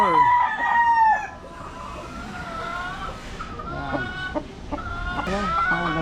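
A Gilmore gamefowl broodstag rooster at a gamefarm crows loudly up close at the start, then gives a series of clucks and short calls, with faint background noise and no talking.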